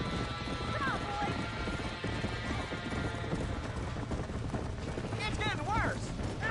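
Horses clatter and whinny near a burning barn in the Red Dead Redemption game, with hooves clip-clopping under frantic shouting voices and sharp neighs rising toward the end.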